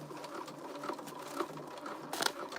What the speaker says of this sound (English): just sewing in this machine in general too